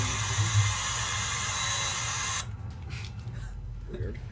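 Vacuum cleaner running with a steady, hissing whine and a low hum for about two and a half seconds, then cutting off abruptly, followed by quieter background noise and faint voices.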